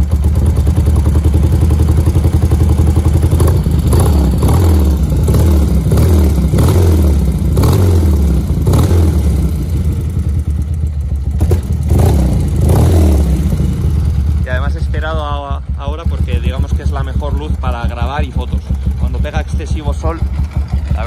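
A BMW R100S motorcycle engine idling with a loud, rhythmic, lumpy throb close by, under someone talking almost the whole time, with some revving and mechanical clatter.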